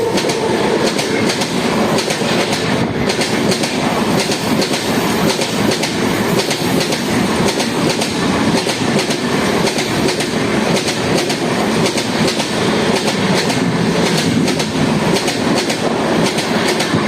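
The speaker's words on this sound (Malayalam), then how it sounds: "പാലരുവിനെ പിടിച്ചിട്ടിട്ട് മറ്റേ ബംഗളൂരു ഇൻ്റർസിറ്റീനെ കയറ്റി വിടും." The Bangalore Intercity express rushes past the halted Palaruvi Express at Pudukkad railway station in Kerala. Its loud, continuous roar and rhythmic clickety-clack of wheels on rail joints sound close by and fill the whole stretch.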